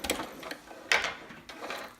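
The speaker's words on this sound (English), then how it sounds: "And then I'm going to back stitch once I get, sometimes it needs a little bit of help there." Sewing machine back stitching a romper, a few short close bursts of rapid mechanical stitching with brief pauses between, fairly loud and alone.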